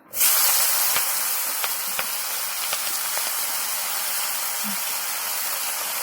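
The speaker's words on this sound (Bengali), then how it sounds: "পেঁয়াজ দিয়ে ভালো করে লাল লাল করে ভেজে নেবো" Chopped onion hits hot oil, left over from frying cut pona fish for a spicy fish curry, and breaks into a loud, close, steady hiss of sizzling. The hiss holds evenly throughout.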